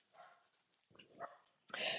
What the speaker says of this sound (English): I got dogs barking all over the place.